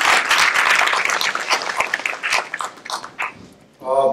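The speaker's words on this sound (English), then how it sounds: "Can we have a huge round of applause" Applause at a fireside chat, many hands clapping loudly at first and then thinning out into scattered claps, with a brief voice or tone rising at the end.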